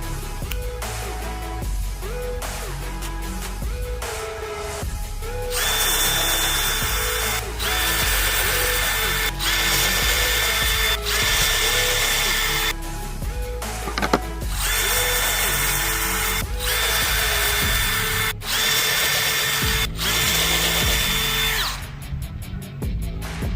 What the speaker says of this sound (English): I am going to be using my drill block to start the hole.